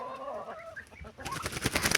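A black hen clucking softly at close range, short uneven clucks at first, then a busier, louder stretch of scratchy bursts toward the end; no voices present.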